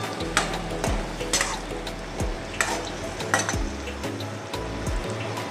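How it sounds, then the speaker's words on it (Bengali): Capsicum stirred and fried in a pan, with a steady sizzle under repeated scraping strokes of a spoon that sweep across the pan every second or so, close and clear. "ক্যাপসিকামটা একটু নেড়ে নিই।"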